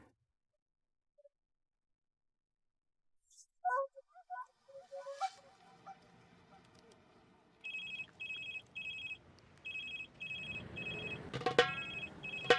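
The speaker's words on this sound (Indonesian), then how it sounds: "Itu HP kamu bunyi." A mobile phone rings with a repeating electronic ringtone in short regular bursts after a few quiet moments and some soft handling sounds, continuing steadily near the listener.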